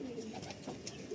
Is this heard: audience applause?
no